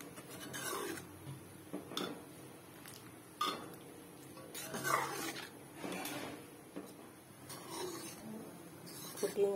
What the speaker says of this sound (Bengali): এখানে ভালো করে নেড়ে ফুটিয়ে নেব।